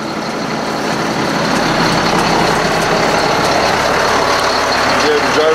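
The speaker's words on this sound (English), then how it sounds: "You pull this up. It will engage your PTO. Your PTO is engaged." A 2007 GMC C7500 Terex Hi-Ranger XT-55 forestry truck runs steadily with its PTO engaged, a close, even engine drone with a faint higher whine layered over it.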